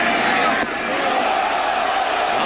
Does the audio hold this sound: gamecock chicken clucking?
no